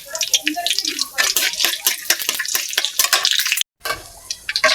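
Whole spices (bay leaf, cinnamon, cloves, black pepper, cardamom, cumin) hitting hot oil, a loud crackling sizzle with bursts of spattering, briefly cut to silence near the end before the frying resumes.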